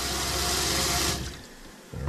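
Water gushes steadily from an RV faucet while draining during winterizing, a broad rushing flow that cuts off abruptly, leaving a quieter trickle before a brief surge returns.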